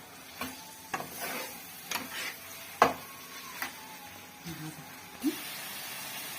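A utensil stirs and scrapes through mushrooms frying in a pan, with scattered soft knocks and scrapes over a low background sizzle, fairly quiet, while a voice talks along.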